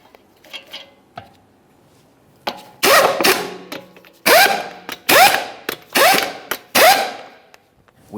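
Ratchet wrench tightens 22mm lug nuts on a Jeep Grand Cherokee wheel in a workshop, five or six loud bursts of clicking near at hand, separated by short pauses and small metallic clinks.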